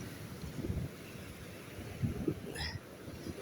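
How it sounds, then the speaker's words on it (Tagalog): Strong wind out at sea on a fishing boat, a low gusty rumble buffeting the microphone with surges and faint wave wash, a brief high chirp near the end, no talking. "Lakas ng hangin."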